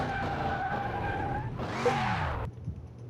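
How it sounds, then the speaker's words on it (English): A video game car revs, then brakes hard during a suspension test, its tires letting out a loud, rising skid squeal for about a second before the sound cuts off abruptly to near quiet. "And slam the brakes."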